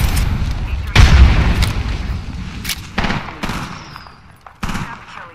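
In Apex Legends, a frag grenade goes off with a heavy boom, followed by a run of sharp, loud gunshots and further blasts in bursts, with players talking over the action.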